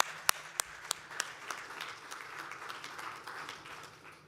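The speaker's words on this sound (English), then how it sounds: "So please join me in giving him a round of applause." Applause from a modest audience at a university alumni evening in New York, opening with a few sharp, distinct claps that quickly blend into a softer, steady patter at moderate distance.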